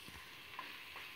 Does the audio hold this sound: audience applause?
no